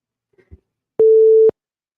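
Single steady telephone tone while a call connects, one clean half-second beep after two faint soft knocks, then silence.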